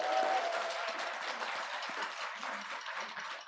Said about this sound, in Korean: 감사의 박수 한번 올립시다